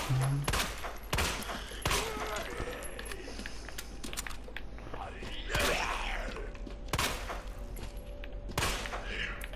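Gunfire aimed at zombies in the video game Resident Evil 2, with repeated sharp shots and thuds over a busy game soundscape, loud and close, under occasional speech.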